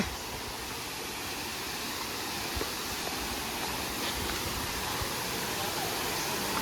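Thirumoorthy falls, surrounded by tall trees, gives a steady broadband rush of falling water that sounds fairly distant and soft, constant throughout with a few faint knocks.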